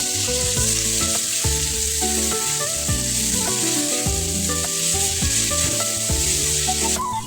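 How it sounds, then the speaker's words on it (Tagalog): Ginger and garlic sauté in hot oil in a pan for squid adobo, a loud continuous sizzle close up, broken by scraping and stirring strokes, with no talking. "Tapos, igisa ang luya hanggang sa lumabas ang kanyang aroma. Sunod naman ay bawang."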